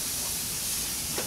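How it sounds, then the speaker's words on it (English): Spray lube hissing from an aerosol can onto the threads and gears of a puller while taking apart a VW crank, a steady close hiss lasting the whole short burst. "I spray a little on the gears too"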